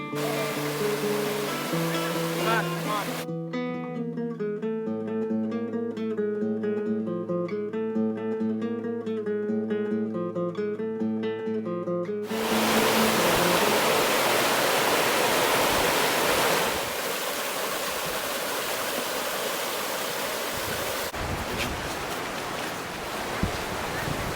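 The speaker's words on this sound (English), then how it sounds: "next to the water, which unfortunately, because of the rain, was running pretty hard." Music plays first, then a river in Zion canyon, running hard after rain, takes over as a loud, steady rushing roar with no pauses.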